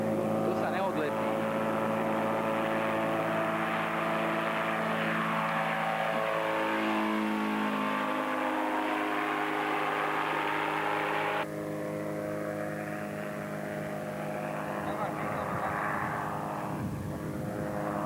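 A homemade model aircraft engine running continuously at high revs, a loud buzzing drone whose pitch shifts up and down through the stretch, with people talking over it.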